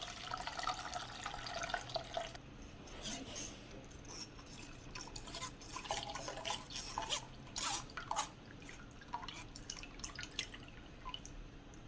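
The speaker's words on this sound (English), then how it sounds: "Now I have that juice. All the juice. And I'm going to strain it." Pot roast meat juices drip and trickle through a strainer in uneven spurts, quiet and close, with no voices.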